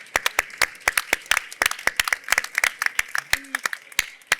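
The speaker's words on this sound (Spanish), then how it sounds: "pues un aplauso a los ponentes" Scattered applause for the speakers at a fair talk on EU food production, a small group clapping in distinct, uneven sharp claps rather than a dense roar, close and fairly loud, with a brief voice near the end.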